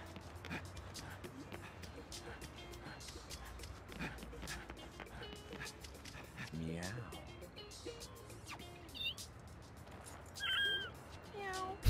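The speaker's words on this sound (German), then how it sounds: "Oh Gott, Kätzchen. Was schreit es denn so?" A cat meows inside the video game No More Heroes, with several short cries rising over busy game sound and music, a couple of sharper calls standing out near the end.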